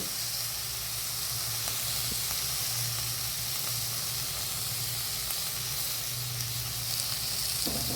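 Okra (ladies finger) pieces fry in a pan for chutney, giving a continuous, even sizzle and steamy hiss up close, with occasional faint stirring ticks.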